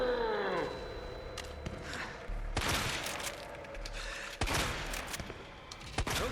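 Gunfire in the video game Resident Evil 2 Remake, with a few loud, heavy shots spaced seconds apart over dark ambient game sound, including an early sweeping metallic noise.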